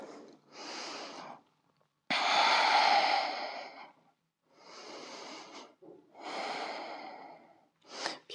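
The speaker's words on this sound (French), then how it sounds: "De longues respirations ici." Long, slow breaths during a yoga pose, with deep audible inhales and exhales alternating with short silences, close and fairly loud. No speech.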